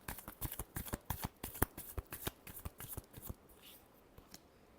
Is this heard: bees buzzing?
no